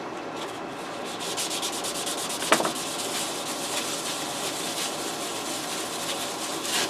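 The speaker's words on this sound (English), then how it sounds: "So now we'll go with 2000 grit finishing paper, and we'll try to put a good shine on this." A handmade knife blade is hand-sanded with 2000 grit finishing paper, giving a steady, close, continuous rubbing hiss in repeated strokes with one brief scrape partway through.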